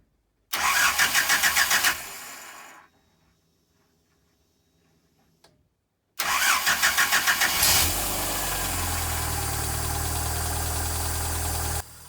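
A ZAZ car engine, unstarted after long storage in a garage, cranks rhythmically and fails, falls quiet, then cranks again and catches, settling into a steady idle.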